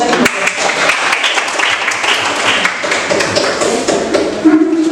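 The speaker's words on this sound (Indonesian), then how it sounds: "Kita berikan aplaus." A classroom group claps for a presentation, a dense patter of many hands close by, sustained for several seconds with uneven taps and thumps.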